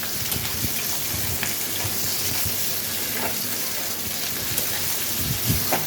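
Onions fry in a pan with a dense, steady sizzle and crackle throughout, close and fairly loud, with small pops scattered across the continuous hiss.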